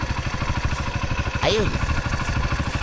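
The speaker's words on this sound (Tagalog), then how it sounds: "So, yan yung makina mga idol. So, okay naman." A motorcycle engine idles steadily up close with an even, rapid chugging pulse, and someone speaks briefly over it.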